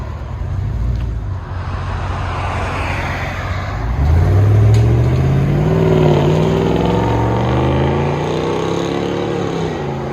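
A 2021 Ram 3500 6.4-liter HEMI V8 truck engine with Dynomax Race Bullet mufflers roars loudly nearby, its pitch climbing as it revs up midway and then holding a deep, sustained rumble.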